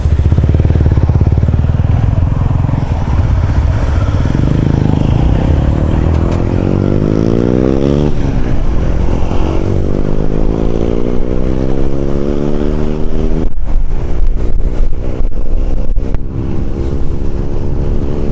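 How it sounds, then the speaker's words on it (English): A motorcycle ridden just ahead on a sunny road ride, its engine droning loud and steady with rising and falling revs and gear changes, heard over wind buffeting from a following bike. "he's riding in front with his noisy bloody bike, so I can hardly hear what I'm saying"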